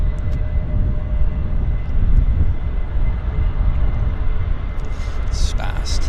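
Airliner departing Vancouver Airport, a loud steady jet engine roar that holds through the whole stretch, with voices talking over it.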